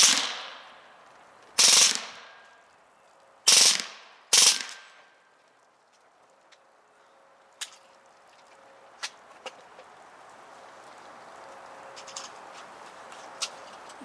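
Hatsan Blitz .22 PCP air rifle firing four sharp, loud shots at uneven intervals, followed by faint clicks and small knocks.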